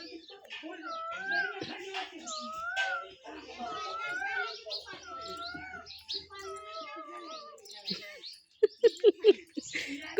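A cat meows several times, each call rising and falling. People talk nearby, and a few sharp taps sound near the end.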